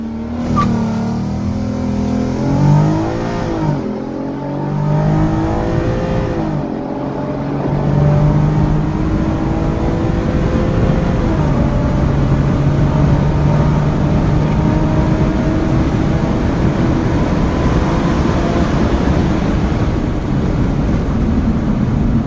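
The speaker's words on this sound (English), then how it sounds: "Here we go in launch control with the new United Motorsports Haldex software." An Audi TT MK2 with a United Motorsports Haldex tune roars through a launch-control start, its engine note climbing through gear changes and then holding a loud, steady drone from inside the car.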